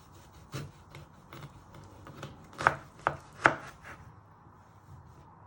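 A knife chops a lemon in half on a cutting board in a home kitchen, with a few soft taps followed by three crisp, distinct strikes and a quieter final knock.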